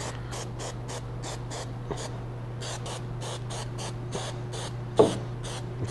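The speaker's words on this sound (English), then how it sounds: "now we want to spray the back of the headliner" Repeated short hissing bursts of adhesive spray onto the back of a VW Beetle headliner, about a dozen in a steady rhythm, close up over a low constant hum.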